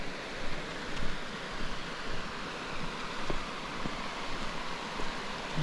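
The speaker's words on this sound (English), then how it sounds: "A few rapids here and there." River rapids in far north Queensland bushland near rainforest, a steady broadband rushing of flowing water with slight surges, continuous and fairly close.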